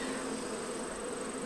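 Honeybees around a hive in summer give off a steady, dense buzzing drone that stays loud and continuous throughout, with no talk over it.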